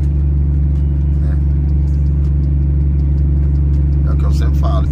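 Steady low engine rumble inside the cab of a Volvo FH truck hauling a dump trailer, constant and close throughout, with someone talking over it.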